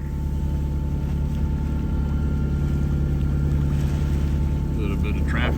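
Motorboat traffic on a very calm day on open water, a steady low engine drone holding throughout, with faint higher tonal hums from other passing boats.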